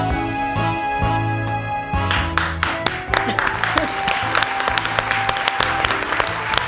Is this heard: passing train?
no